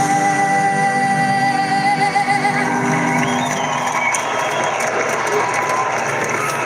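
A large stadium crowd in Brisbane roars and cheers at an AFLW preliminary final between the Brisbane Lions and Carlton, just after the national anthem, a sustained broad wash of cheering with faint sustained tones underneath.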